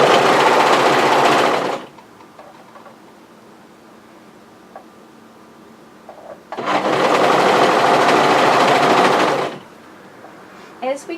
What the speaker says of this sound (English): What we're going to do is just overlock that together.